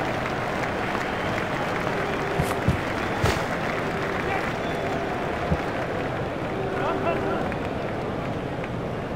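A large cricket crowd at a day-night Australia vs South Africa World Cup match roars after a big shot, a steady broad wash of cheering and clapping that holds loud throughout.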